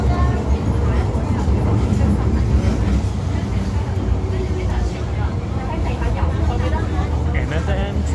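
MTR Kwun Tong Line M-Train rumbling through a journey between Kowloon Bay and Lam Tin, a steady loud low-frequency roar of wheels and motors running throughout, with faint voices underneath.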